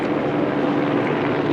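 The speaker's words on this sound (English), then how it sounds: "Helicopter approaching again. Here he comes, slow flyby." A gray and blue LAPD helicopter makes a slow flyby nearby, its steady broadband rotor and engine roar holding level and loud throughout with no breaks.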